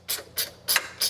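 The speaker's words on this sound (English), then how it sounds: "And as I'm tightening this bolt, I'm not going to tighten all the way because I still want adjustability to center the light bar." Four quick ratcheting clicks come from a wrench tightening a bolt on a light bar bracket for a 2024 Ford F150, each short burst evenly spaced and close up.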